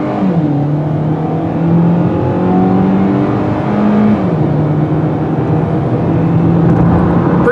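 2019 Hyundai Kona in sport mode accelerating, its buzzy engine note rising in pitch through the gears with brief dips at the shifts, heard steadily from inside the cabin with no talk.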